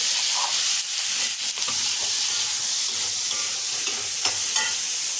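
Green peas, onion, green chillies and curry leaves stir-fry in a pan with a steady, close hiss of sizzling, punctuated by light clinks of a spoon against the pan.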